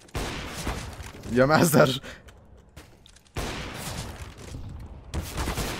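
AK rifle fire in a competitive online shooter, a few loud bursts of shots that come and go between stretches of excited talking over the gameplay.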